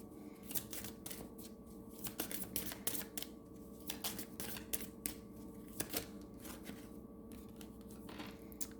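Tarot and angel cards being shuffled by hand, a quiet run of crisp riffling flicks and snaps in irregular bursts, close but faint, with no talk.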